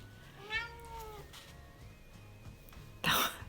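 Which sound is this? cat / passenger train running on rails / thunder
cat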